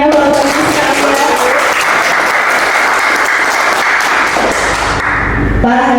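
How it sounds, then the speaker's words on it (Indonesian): Audience members at a village tourism talk show in Tugu Utara, Cisarua, Bogor, clap loudly for the village head. The applause is close and sustained, with a voice talking briefly at the start and end. "Boleh tepuk tangannya Bapak Ibu sekalian."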